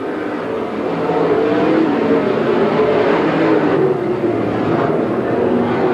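Stock cars race at Buckeye Speedway, a dirt track, in a 1993 event, their engines blending into one loud, steady roar that holds throughout without a break.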